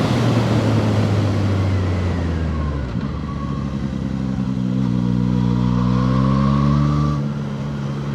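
A Zontes 703R motorcycle engine hums smoothly while riding on twisty roads, holding a steady loud drone with gentle rises and falls in pitch and a brief dip partway through.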